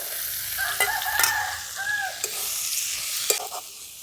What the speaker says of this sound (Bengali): এই আলুগুলোর সঙ্গে মটরটা একটু নাড়াচাড়া করে নিয়েছি